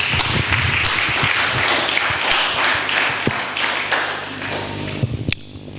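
A church congregation clapping hands during a sermon: a full, steady crowd of claps that thins toward the end into a few sharp, separate slaps and a louder final clap.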